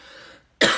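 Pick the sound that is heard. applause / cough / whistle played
cough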